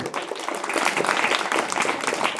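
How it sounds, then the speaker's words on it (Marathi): Applause from an audience at a school event honoring Chhatrapati Shivaji Maharaj's birth anniversary, dense and sustained clapping from a large crowd filling the space, loud throughout. "टाळ्या तर मोफत आहेत यात नको काटकसर"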